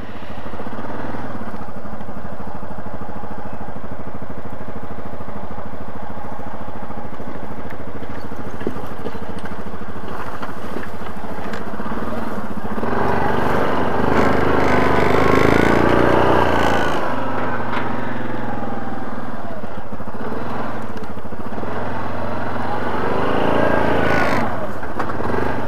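Yamaha Grizzly 700 ATV engine running steadily through a test ride, a low continuous drone that swells louder midway and near the end as it works harder, with faint voices at times.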